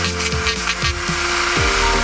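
Scuffing the bottom of a motorcycle fuel tank for a Euro-style T-One build gives steady close-up abrasive rasping, with short strokes repeated under a background whine of a power tool.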